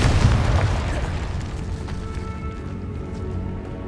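The Confringo spell bursts in Hogwarts Legacy with a loud booming explosion at the start, its rumble fading into a long, decaying tail.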